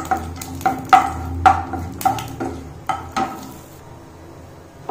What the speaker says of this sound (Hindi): एबे मु एथिरे तेजपत्ता आउ ड्रमस्टिक पके नेली, टिके हल्का फ्राई करनेबी।